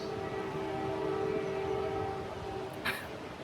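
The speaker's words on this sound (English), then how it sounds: "this fucking train" A train passes steadily nearby, a sustained rumble with tonal wheel or horn-like drones running throughout, ending in a brief high screech of metal near the end.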